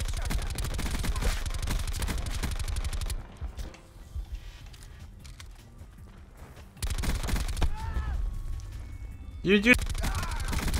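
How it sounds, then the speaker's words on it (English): Dense automatic gunfire rattles in a Black Ops 4 video game match, dropping out to a quieter stretch before bursts resume with a sharp blast near the end; someone talks briefly over it. "shot a grenade on me right now"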